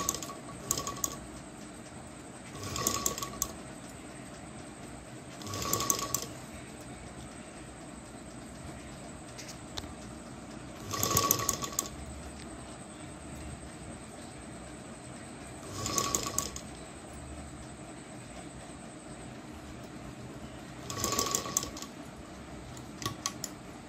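A sewing machine stitches a blouse in short bursts of rapid mechanical running, about five separate runs spaced several seconds apart, close and moderately loud over a quiet room hum, with no talking.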